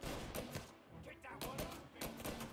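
Gunshots ring out in Mafia: Definitive Edition, several sharp reports in quick succession, fairly quiet overall with game ambience between them.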